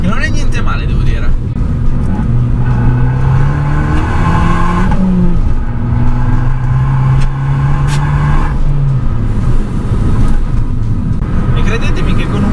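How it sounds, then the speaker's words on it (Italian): An Abarth Biposto's 1.4-litre turbocharged engine with an Akrapovic exhaust gives a deep rumble that drones steadily, rising and falling in pitch, while someone talks over it throughout. "possiamo apprezzare ancora di più il rombo di questo scarico a Krapovic, che non è niente male"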